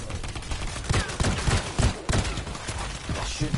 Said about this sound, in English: Reload this gangster auto cannon.